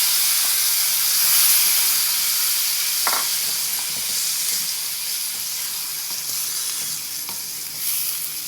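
Boiled white peas tip into a pan of frying tomatoes for Mumbai street-style ragda, setting off a steady, close sizzle and hiss with a few soft stirring knocks, no talk over it.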